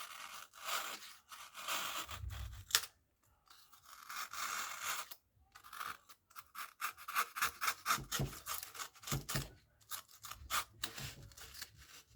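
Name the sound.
offset chisel carving out wood for a jaw harp case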